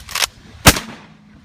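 A real shotgun fired outdoors at a Diwali celebration: two sharp, loud blasts about half a second apart, the second heavier and booming, followed by a short fading tail.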